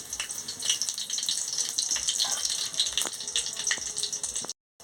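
Panch phoron and dried red chillies dropped into hot oil in a heated kadai, giving a steady loud sizzle and crackle with scattered pops throughout, then cutting off abruptly near the end.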